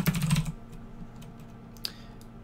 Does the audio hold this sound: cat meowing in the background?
no